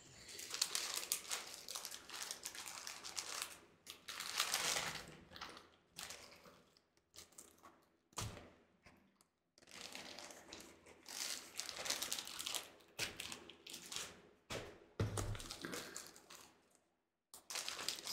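Purple and white paper roses handled and crinkled up close, bursts of dry rustling and crackling separated by short quiet pauses, with no talking.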